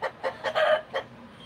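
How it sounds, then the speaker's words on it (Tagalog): Chickens cluck close by in a short burst of about five rhythmic clucks with a drawn-out squawk in the middle, fairly loud, then quiet. "Ang ingay ng manok!"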